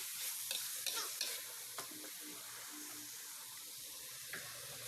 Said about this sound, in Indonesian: Lalu ditumis sampai wangi ya, sampai berminyak.